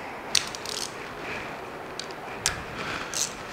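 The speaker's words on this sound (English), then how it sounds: "Grab your extension or your 1/4-inch drive." A 1/4-inch drive ratchet snugs a passenger footboard mount bolt on a 2022 Harley-Davidson Road Glide ST, giving a few sharp, close clicking bursts spaced apart over a steady low background hiss.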